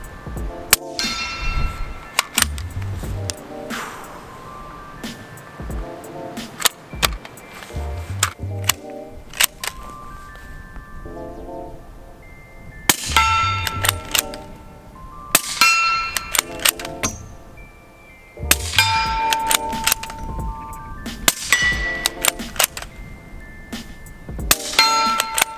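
Q Mini Fix bolt-action rifle in .300 Blackout firing at a steel hostage swinger target from 50 yards; sharp shots, each followed by a ringing metallic ping, repeat at irregular intervals with no talking.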